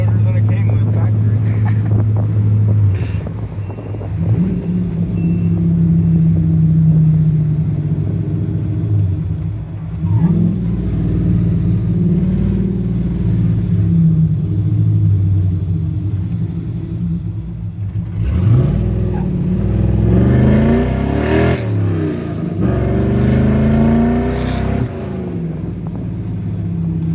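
An old truck fitted with a smaller-than-factory engine idles with a deep, loud rumble, then revs up sharply several times near the end, steady and close throughout.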